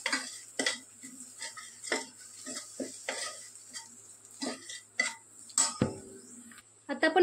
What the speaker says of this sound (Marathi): परतून घेते मी व्यवस्थित मसाले आपले.